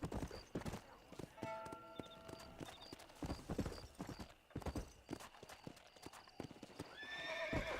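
Horse hooves clip-clopping at a rapid gallop in Red Dead Redemption on PS4, with a whinny near the end, loud and rhythmic throughout.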